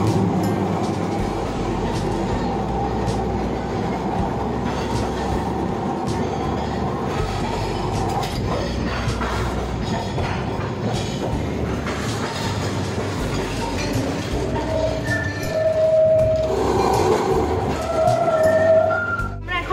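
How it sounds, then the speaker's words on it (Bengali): A historic Kolkata tram carrying passengers, heard from inside as a steady rolling rumble with rhythmic wheel clatter and short metallic squeals of wheels on rails toward the end. "ওঠা মাত্রই ট্রাম চলতে শুরু করল।"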